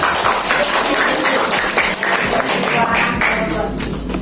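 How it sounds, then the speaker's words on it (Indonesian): Students in a classroom break into loud, steady applause during a lesson, with voices mixed in among the clapping. "tepuk tangan ayo"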